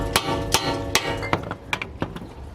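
Sharp metallic hammer blows strike a tool against a bolt on a 2008-2012 Honda Accord front brake, with about eight close, ringing hits at an uneven rhythm over a couple of seconds.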